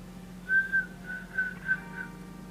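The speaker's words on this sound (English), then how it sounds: "Did I just try to whistle and didn't?" A person tries to whistle during a casual makeup session, producing a few thin, breathy whistle notes in short bursts that fade quickly, close to the mic and fairly quiet.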